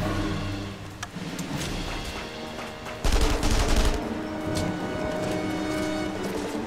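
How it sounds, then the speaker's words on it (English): Gunfire in the video game The Saboteur, rapid overlapping bursts of shots over a continuous background din, with a loud heavy blast near the middle and shooting carrying on afterward. "Where am I getting shot from?"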